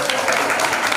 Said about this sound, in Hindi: ताली बजा दो, क्या दिक्कत आ रही है तुमको।